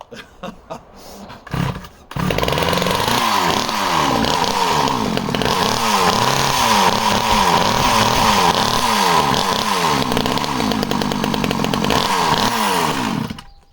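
A chainsaw sputters with a few pull attempts, then roars to life and runs loudly and steadily, its engine revving up and down nearby.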